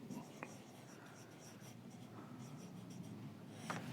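Chalk or marker scratches across a board during an engineering lecture on cantilever beam support reactions, in short strokes with a couple of sharp taps, quiet and close, with faint low speech around it.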